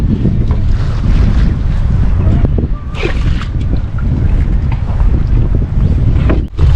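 Strong wind roars and buffets the microphone at sea in stormy weather near small fishing boats, with rough waves underneath, a steady loud rush with brief dips and no talking.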